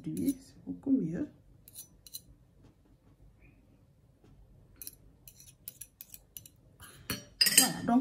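A utensil clinks against a container while homemade slimming body lotion is mixed, giving a few light scattered taps and a brief clattering burst near the end, alongside quiet speech.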